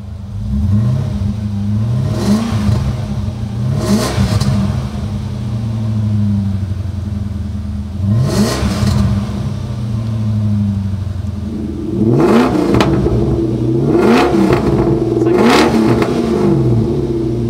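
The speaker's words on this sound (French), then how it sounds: "Allez, fais vroom vroom avec la série 7" Close-up BMW 7 Series car engine idling with a steady hum, punctuated by several sharp throttle blips that rise and fall, clustering into quicker revs near the end.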